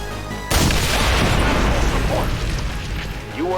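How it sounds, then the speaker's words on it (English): A tank exploding in XCOM 2: a sudden heavy boom after half a second of quiet, followed by a long rumbling, crackling decay, with voices talking over it. "You weren't kidding when you said those tanks could explode."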